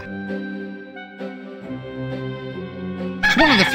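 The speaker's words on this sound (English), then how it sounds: "A rooster." A rooster in the adventure game Discworld II gives a short, loud squawking crow at the end, following a stretch of game music.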